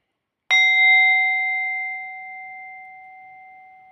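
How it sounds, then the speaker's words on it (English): A single bell strike rings out clearly and alone, its bright metallic tone sustaining and slowly fading over several seconds with steady harmonic partials. "Something just rang the bell there."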